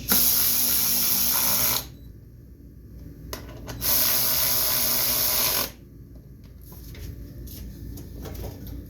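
A power driver tightening the four screws on the plastic gas tank of an 8-horsepower Yard Machine front-tine garden tiller: two loud, close whirring bursts of about two seconds each, separated by quiet handling clicks.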